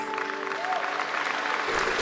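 Steady crowd clapping at a Gamescom watch party, a continuous dense patter of hands held at an even level throughout, with no voices standing out.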